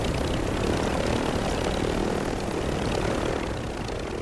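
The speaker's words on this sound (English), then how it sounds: "There's a helicopter chasing y'all." Helicopter in the video game Call of Duty Warzone, a steady, loud rotor and engine roar that holds constant throughout as the aircraft flies overhead, with no talk.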